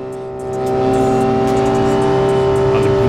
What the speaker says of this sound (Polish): Ale głupi ten skyline ma dźwięk